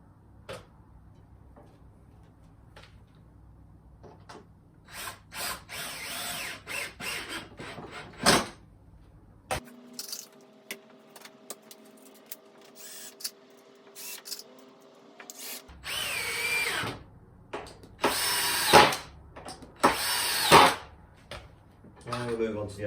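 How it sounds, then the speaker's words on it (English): A power drill drives a screw into a mitre saw station, one steady whirring run of several seconds in the middle, surrounded by clattering handling noises and intermittent talk. "One screw in first of all."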